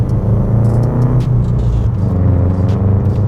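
A Subaru Prodrive car's engine drones loudly and steadily as it drives up Franschhoek Pass, a close, continuous rumbling roar with slight shifts in pitch and no talking.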